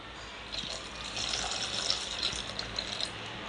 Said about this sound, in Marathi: पाणी टाकून घेऊया